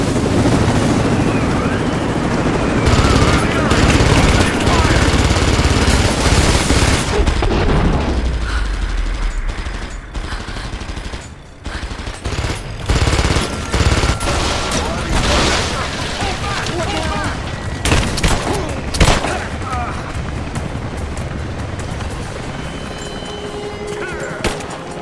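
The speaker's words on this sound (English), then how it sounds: "Contact! Give me covering fire!" Gunfire in the Rise of the Tomb Raider video game: loud bursts and booming shots with mechanical clatter, sustained heavy firing at first, then scattered shots and impacts, with shouted voices mixed in.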